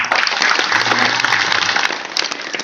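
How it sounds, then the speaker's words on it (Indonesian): Loud, close applause from a Hindu congregation at a Ngebak Geni ceremony in the temple Pura Kerta Bhuwana Giri Wilis in Nganjuk, dense, even clapping that thins slightly toward the end. "Ini tepuk tangan untuk umat semua"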